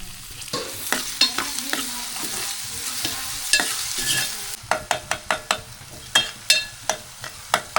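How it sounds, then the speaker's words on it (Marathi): Tomatoes fry with onion in a pan, a steady sizzle broken by repeated sharp scrapes and taps of a spoon that turn quick and rhythmic in the second half. "आता टोमॅटो टाकून घेऊया."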